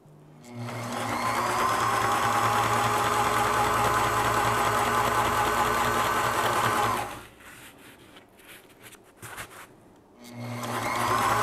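A sewing machine stitches a nylon seam for a DIY teardrop camper galley end wall, running in a steady loud burst for about six seconds, pausing with a few handling clicks, then starting up again.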